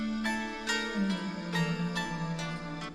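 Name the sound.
beat with vox and pad added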